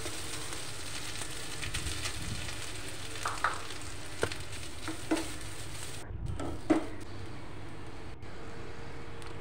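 Grated coconut frying in ghee in a pan: a quiet, continuous sizzle with occasional spoon clicks and scrapes against the pan, steady and close, no talk.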